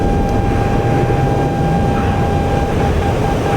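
Cargo plane engines in a war video game, a steady loud drone with a constant tonal whine holding throughout, no talk over it.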